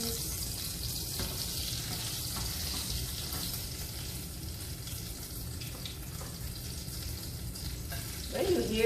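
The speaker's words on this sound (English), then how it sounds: "When you hear that type of noise there, it means that a slight touch of water might have interfered with the oil" Potato balls fry in hot oil with a steady, dense sizzle and crackle, and a sharper burst of spattering near the end where a touch of water hits the oil.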